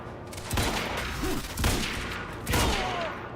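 Gunfire in Quantum Break crackles through a dense firefight as a rapid volley of overlapping shots and impacts, arriving in several bursts against a noisy combat background.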